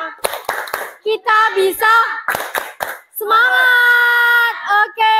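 A class of children does a rhythmic spirit clap in a classroom, sharp bursts of hand claps alternating with the kids chanting and singing together.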